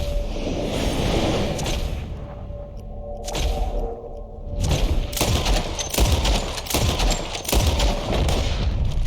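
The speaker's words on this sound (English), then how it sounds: "As soon as you see them, start shooting." Dense video game gunfire, loud rapid bursts and repeated booming shots, rattles continuously through the scene, with sharper volleys in the second half and occasional voices under the shooting.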